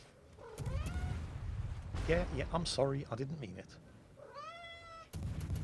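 A cat meows twice with drawn-out, rising and falling cries, close and clear, with someone talking between the meows.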